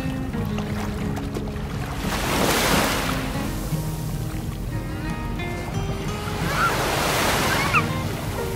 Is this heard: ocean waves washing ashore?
yes